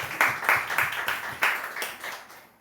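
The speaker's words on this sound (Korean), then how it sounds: "박수로 한번 축하해 주시기 바랍니다" A church congregation at a Sunday worship service claps to congratulate a couple, a short, moderately faint burst of scattered applause with uneven hand claps.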